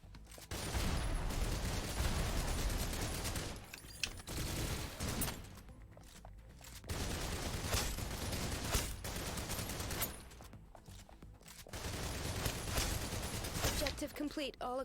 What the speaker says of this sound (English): Well, if you're not going to shoot,